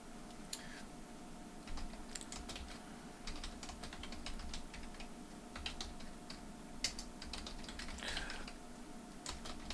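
Quick, irregular clicking of a computer keyboard while code is typed into Excel's Visual Basic editor, close-miked with clustered keystrokes and brief pauses, no talking.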